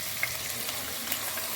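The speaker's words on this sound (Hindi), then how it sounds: "और इसको भी, चिकन को भी हम इसके अंदर फ्राई करेंगे।" Boneless chicken cut into small pieces fries in a pan with a steady, soft sizzle and faint crackle, a couple of brief stirring clinks rising above the continuous hiss.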